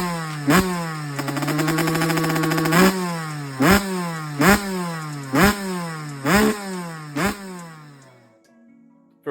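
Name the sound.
Honda CR125 motorcycle engine running after rebuild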